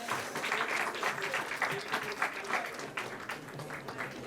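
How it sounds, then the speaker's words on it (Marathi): An audience in Pune claps steadily and fairly loudly at a Bharatanatyam performance during a patriotic literature convention. The dense, continuous applause runs the full length, with a voice faintly underneath it. "सगळ्यांनी जोरदार टाळ्या वाजवा"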